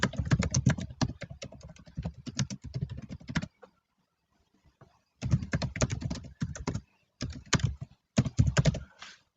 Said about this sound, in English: here we need to just type the customer information